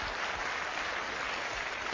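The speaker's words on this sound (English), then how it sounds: "Round of applause." A crowd claps continuously, a dense, even wash of applause that holds steady throughout.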